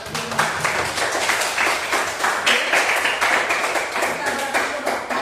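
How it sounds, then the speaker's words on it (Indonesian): A classroom of students applauds together at the end of a lesson, dense steady clapping filling the whole stretch with children's voices mixed in underneath. "Ayo tepuk tangan dulu buat kita semua"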